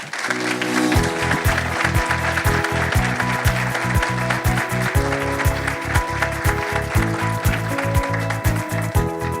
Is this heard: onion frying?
no